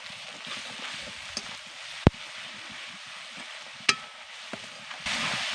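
Spices being stirred into garlic frying in a pan for a rohu fish curry, a steady soft sizzle with a few sharp clinks of the spoon against the pan.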